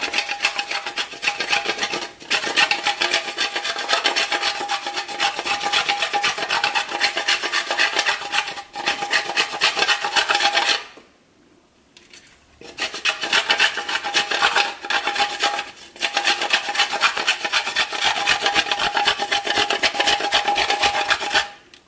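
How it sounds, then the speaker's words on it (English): White premium chocolate being rubbed against a hand grater, a steady rasping scrape in long repeated strokes with a short pause midway, close and loud with no talking. "I'm going to use this grater and just sprinkle some on the top"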